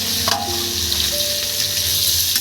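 Boiled potatoes and mustard fry in a pan with a loud, continuous close-up sizzle and faint scraping of stirring, and no voices.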